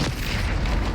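A Bombarda blasting spell goes off in Hogwarts Legacy, one short deep boom with a burst of rumble, close and loud.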